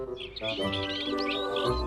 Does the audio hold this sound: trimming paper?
no